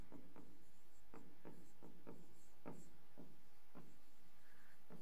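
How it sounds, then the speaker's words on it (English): Marker or chalk strokes squeak and scratch across a classroom board during a maths lesson. About a dozen short, close, rhythmic strokes come with brief pauses between them, and there is no talking. "I am writing the relation here"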